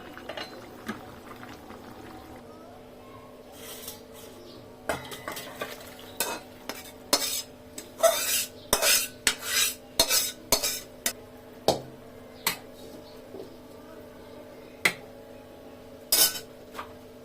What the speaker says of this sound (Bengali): এখন আমি একটা সসপ্যানে ঢেলে রাখবো